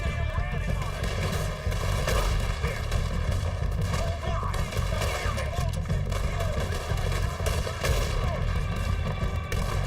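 Rifle gunfire in the video game Red Dead Redemption 2, dense repeated shots and bangs over a constant loud game soundscape, with a player talking over it.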